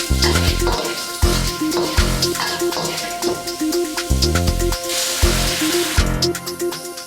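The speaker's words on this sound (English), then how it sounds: "we start by frying up our pork fat until it starts to melt" Pork fat frying and melting in a hot wok over a medium flame, a loud continuous sizzle with crackling spatters, under a steady background of rhythmic music.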